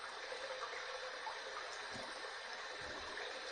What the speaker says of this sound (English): So we're going to heat this up under some hot water.